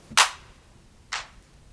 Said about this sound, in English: Basic 909 or 808 sounding clap.